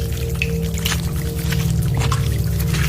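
A washroom tap runs with a steady, loud stream of water and scattered drips, close by and continuous.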